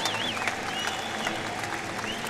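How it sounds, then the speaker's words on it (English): Applause from an audience at a women's wrestling event fills the whole moment, steady and fairly close, with a whistle or cheer rising above the clapping. "How about a round of applause?"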